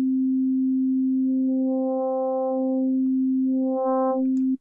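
FM synthesizer in Ableton Live holds a steady tone while one operator is modulated, so the sound swells into a brighter buzzy timbre, falls back, then brightens again before stopping abruptly. Close, alone, no talk.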